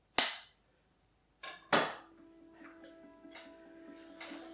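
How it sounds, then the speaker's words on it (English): A sharp clapperboard snap cracks out, then a second clap follows a moment later, leaving faint ringing tones and soft background noise behind. "sound marker"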